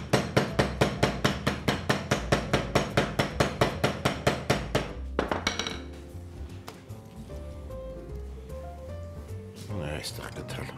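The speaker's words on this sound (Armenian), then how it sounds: "Կաղամբի տերևի կոշտ մասը մուրճով ծեծում ենք," A mallet pounds the tough stems of cabbage leaves, a fast regular run of sharp loud thuds for about five seconds, then quieter kitchen clatter and a short final knock.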